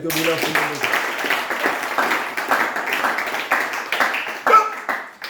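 A church congregation claps at a French evangelical service in praise of the Lord, loud and fairly brisk with scattered individual claps, and voices call out over the applause throughout.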